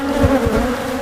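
Honeybees drone in a dense, steady buzz around an opened beehive on a farm, loud and close, with a few louder swells as individual bees pass near.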